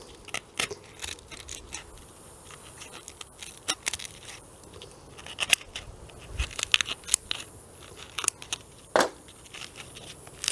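Plastic gardening item being sliced across its bottom, giving scattered crisp snips and scraping crackles in quick irregular bursts, close and fairly quiet, with no talking.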